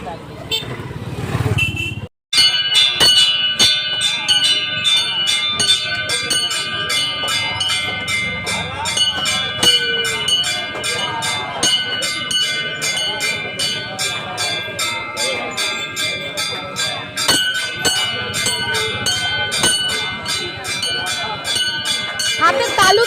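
Bells ringing during aarti at a Bajrangbali temple: a rapid, steady clangour of bright metallic strokes runs almost throughout, near and loud, mixed with crowd noise and passing traffic, with people talking over it.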